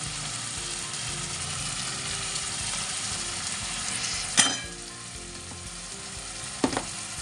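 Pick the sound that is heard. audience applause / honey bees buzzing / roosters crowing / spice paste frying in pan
spice paste frying in pan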